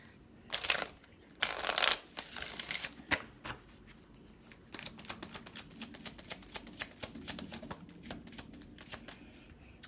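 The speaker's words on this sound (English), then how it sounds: "Give me one more shuffle." A deck of tarot cards being shuffled up close, with a few loud riffling bursts early on followed by a long run of quick, soft flicking.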